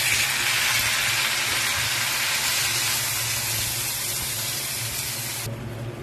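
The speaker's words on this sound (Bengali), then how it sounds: "বাট এবার একটু পানি দিয়ে দেবো পরিমাণ মতো।" Water splashed into a pan of frying potatoes sets off a loud, steady roar of hissing steam and sizzle that holds for about five seconds, then quickly loses its bright edge near the end.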